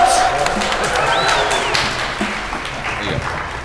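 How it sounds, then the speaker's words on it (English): Audience applause welcoming a performing quartet at a live-streamed show, a steady broadband patter of clapping filling the whole stretch with some voices mixed in. "You can applaud, come on."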